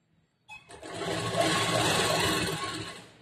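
A sewing machine stitches together blouse lining fabric in one steady, continuous run of rapid needle strokes that starts abruptly, holds level for a few seconds, then eases off, with no voices.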